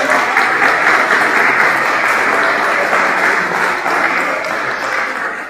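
A church congregation applauds in a loud, dense, sustained wave of clapping that holds steady throughout and eases slightly toward the end.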